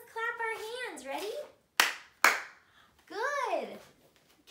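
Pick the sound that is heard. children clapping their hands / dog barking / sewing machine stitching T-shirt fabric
children clapping their hands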